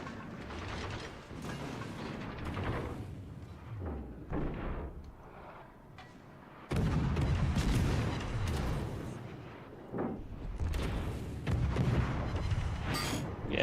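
Naval gunfire in World of Warships: Legends, with repeated heavy booms and thuds mixed with mechanical clanking and rumble, coming in uneven bursts over a steady low roar of battle.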